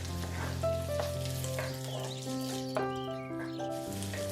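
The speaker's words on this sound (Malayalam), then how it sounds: "ഇതെല്ലാം നന്നായിട്ടൊന്ന് വഴറ്റിയെടുക്കാം." Chopped onion, ginger and curry leaves sizzle and crackle in hot oil in a pan for a Kottayam-style fish curry, a continuous close frying hiss running throughout with a faint tonal hum behind it.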